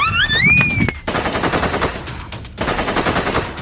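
Rapid gunfire from an animated scene in which a dinosaur is being shot at, loud bursts of machine-gun fire in two long stretches after a brief high whistling tone at the start.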